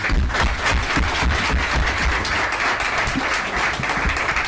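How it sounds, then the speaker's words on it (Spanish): Dense, steady applause from an audience at a Spanish-language IEA coal market report presentation, a continuous wash of many hands clapping with no pause. "Vamos a aplaudirle a Carlos"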